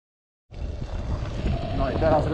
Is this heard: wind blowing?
yes